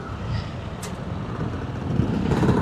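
A bus rumbles past on a busy road, a low engine drone swelling louder toward the end amid general traffic noise.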